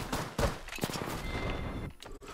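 Sniper rifle gunfire in the video game Apex Legends, with a sharp burst of shots and cracks over busy game noise in the first half, then a quieter tail.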